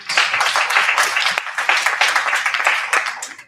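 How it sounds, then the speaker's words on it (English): An audience at an election results announcement applauds steadily, a dense wash of many hands clapping with a brief dip midway, loud and close throughout with no speech over it. "a huge round of applause for Dr. Japus"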